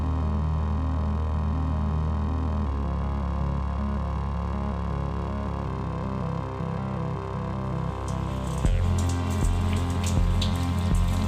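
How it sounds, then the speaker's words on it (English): Heavy rain from a four-day category-3 atmospheric river hisses steadily around a boat at sea, a dense, constant wash with a low hum beneath it and sharper spattering drops near the end. "It sure is raining pretty hard when you see it right here."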